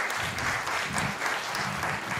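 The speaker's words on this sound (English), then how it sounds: "A round of applause, please, for Farouk." Audience applause for a speaker at a FameLab 2018 science communication event in Prague, dense continuous clapping filling the whole stretch at even loudness.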